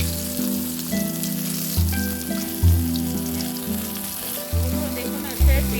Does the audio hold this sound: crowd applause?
no